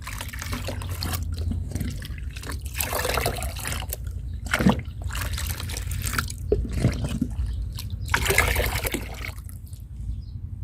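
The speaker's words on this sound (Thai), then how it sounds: "จากนั้นเราก็คนผสมให้เข้ากันเลยนะคะ" A liquid plant pest spray mixture is stirred in a container, giving repeated wet swishes and sloshing surges close by at a moderate, steady level, with no talking.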